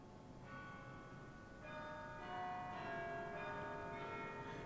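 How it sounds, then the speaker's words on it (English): The church clock bells of the Westerkerk in Amsterdam chime a slow melodic sequence of overlapping ringing tones, moderately distant and resonant, each strike sustaining into the next. "the chimes of the clock from the nearby Westerkerk"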